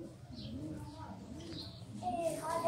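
Sialkoti pearl-eyed pigeons give soft, low repeated coos close by, with a few faint chirps, over steady background murmur and some talking.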